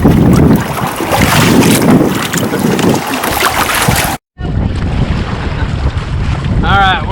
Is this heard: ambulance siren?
no